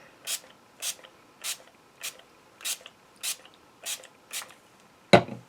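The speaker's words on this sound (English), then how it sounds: "we are going to spray over this whole page" Nine quick bursts from a spray bottle spraying ink over an art journal page at an even, steady pace, close by, ending with a sharp knock or clatter.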